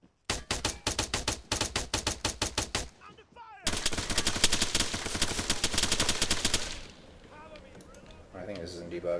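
Rapid automatic gunfire in the military shooter Arma 3: a near, loud burst of evenly spaced shots, a brief pause, then a longer sustained volley that tails off into scattered distant shots.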